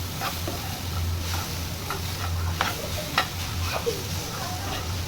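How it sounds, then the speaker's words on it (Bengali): Helencha greens are stirred with onion and garlic in a pan, a low steady sizzle running beneath occasional spoon scrapes and taps against the pan. "শাকগুলোর সাথে এই পেঁয়াজ রসুনগুলো মিশিয়ে নিব"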